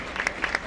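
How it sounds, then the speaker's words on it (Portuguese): Short burst of audience applause at a Brazilian street rap battle in Itaquera, with scattered claps rising in two brief peaks over a steady crowd hiss. "Muito obrigado pelas palmas."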